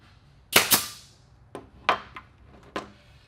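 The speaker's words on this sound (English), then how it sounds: "I'll pull it tight if there are, and then throw a staple in there" A staple gun fires staples through a dirt bike seat cover, giving five sharp, close snaps: two quick ones, then three more spaced about a second apart, with no talking.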